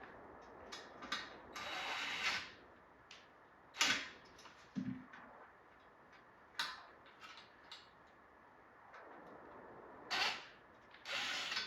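Screwdriver loosening a screw inside an arcade cabinet during restoration, faint scattered ratcheting clicks and ticks in short bursts against a quiet room.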